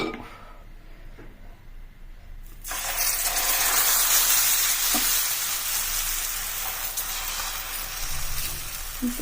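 Rice flour dosa batter poured onto a hot pan sizzles loudly, a sudden bright hiss that rises after a quieter start and then holds steady, with faint scraping and clinks underneath.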